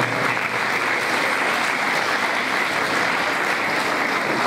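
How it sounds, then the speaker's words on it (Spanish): An audience at an evening competition gives loud, dense applause for the judges being introduced. The clapping is steady and sustained throughout, with no voice heard over it. "fuertes aplausos para"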